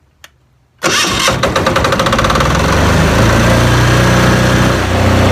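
A small click, then a diesel generator engine, already warm without preheating, cranks and catches almost instantly, settling into a loud, steady knocking idle close by.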